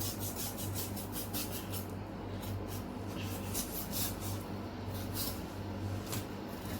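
Knife scraping and cutting through the tough skin and flesh of a shark fish, a steady close rasping rub that continues without pause.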